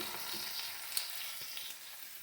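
Breaded burger patties frying together in a crowded pan, a steady close crackling sizzle with a brief sharp pop near the middle and no talking.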